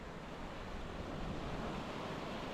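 Sea waves wash and crash against rocks on the shore near Ayia Napa, a steady broad surf roar mixed with gusty wind noise across the microphone.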